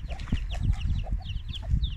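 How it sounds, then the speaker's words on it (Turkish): A hen clucks in a farmyard coop in a steady run of short, close, repeated clucks with a few sharper notes, no voices present. "bu tavuğumuz bence Gurk."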